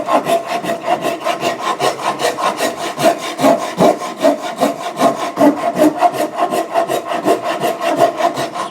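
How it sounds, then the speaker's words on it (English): A hand saw rasps through wood, cutting a kerf for an axe handle wedge, in a steady back-and-forth rhythm, loud and close, with about three strokes each second. "And I'd like to cut that kerf a little bit deeper."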